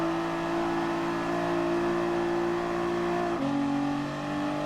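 A Nissan GT-R race car engine from GT Sport in a beginner driver league cup race holds a steady high whine, with a brief gear shift dip partway through and no talking.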